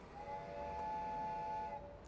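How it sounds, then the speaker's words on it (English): A steam train in a video game sounds its whistle, a sustained steady tone held for nearly two seconds over a soft background hiss. "The steam train whistle!"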